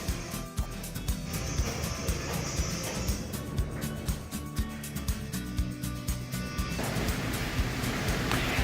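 Steady rushing splash of a waterfall inside an aquarium under construction, a dense, continuous wash of falling water that stays fairly loud and close throughout with no talking.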